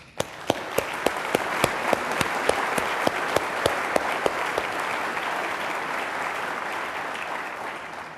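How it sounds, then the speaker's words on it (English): Warm, steady applause from a conference audience honoring volunteers at a presidential address. A few sharp, close claps stand out at regular intervals over the dense crowd clapping, which holds level for eight seconds. "Let's acknowledge these selfless volunteers with a round of applause."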